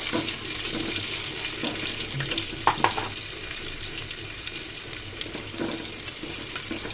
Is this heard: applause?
no